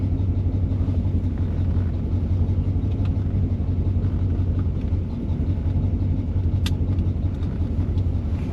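A 1977 Corvette engine running while the car is driven, a steady low rumble with road noise, continuous and fairly close throughout.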